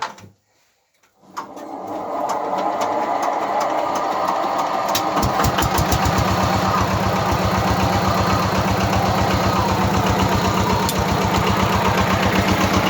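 A walk-behind tractor engine starts up after a brief silence and runs steadily, driving a homemade generator built from an old electric motor; a loud, continuous mid-pitched chugging with a rapid knocking pulse and faint clatter throughout.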